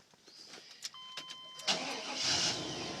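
A 1998 Chevrolet Suburban engine is started. Faint clicks and ticks come first, then the engine catches with a loud rush and settles into a steady, fairly close running drone.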